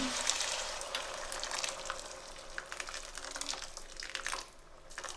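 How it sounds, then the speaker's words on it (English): Water pours and sizzles into a hot pan of potatoes, tomatoes and minced meat, a steady hissing, bubbling wash that eases off toward the end. "So I'll add some water to this pan"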